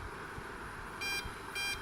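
Two short electronic beeps from the timer button of a CF 25B dehumidifier, evenly spaced and clear over a low steady hum of the running machine.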